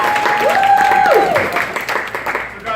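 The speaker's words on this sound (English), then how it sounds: "And give Corey a round of applause as well." An audience at an investor panel event gives a short round of applause. Talk and a brief tonal sound run over the clapping as it tapers off.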